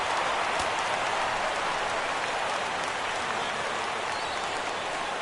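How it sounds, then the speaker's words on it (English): A stadium crowd in a PS4 baseball video game roars steadily at a full count, a dense, even wash of cheering that holds at the same level throughout. "Crowd gets up for the 3-2."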